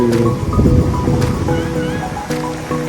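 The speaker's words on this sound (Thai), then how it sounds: "บรรยากาศทะเล" Sea waves wash in at Hua Hin beach, a steady rushing surf with wind buffeting the microphone, and a faint voice in the background.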